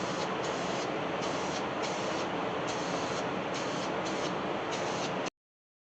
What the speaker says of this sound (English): So I'm trying to just mist it on light, and then I'll have to come back and coat it again